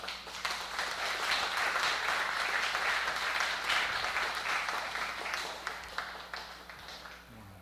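A church congregation applauds new pastors at an installation ceremony, a steady wash of many hands clapping that stays fairly even before slowly thinning out, heard at a moderate distance.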